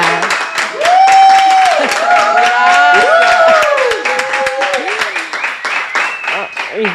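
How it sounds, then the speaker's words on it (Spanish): A studio audience applauds Keiko Fujimori, the newly elected president of Peru, on an interview show, with steady clapping throughout while a voice speaks over it with rising and falling intonation. "Un aplauso para Keiko."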